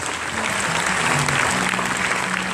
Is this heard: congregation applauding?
yes